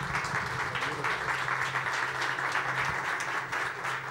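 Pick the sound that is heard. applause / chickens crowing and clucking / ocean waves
applause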